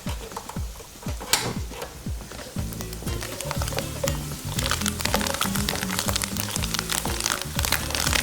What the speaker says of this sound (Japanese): あとさらに炒めていきますね。